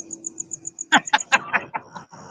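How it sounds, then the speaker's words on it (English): A cricket chirps in a steady, evenly spaced pulsing rhythm from across a lake, clear and carrying, while a person's voice breaks in partway through over the chirping. "That's one loud cricket."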